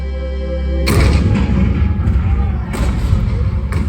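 Show sound effect of cannon fire at Fort Sumter: a heavy boom bursts in abruptly, followed by rumbling blasts and a couple of further cracks, loud and close.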